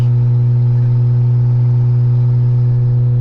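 Single-turbo Toyota Aristo pulling hard in third gear, a loud steady engine drone with a strong even hum held throughout, close and without talk.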